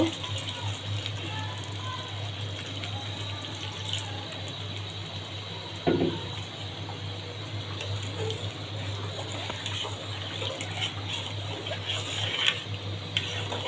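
Water is poured into mung lentils that have been fried down in beef fat, a steady pouring wash running for several seconds under a constant low hum of kitchen background.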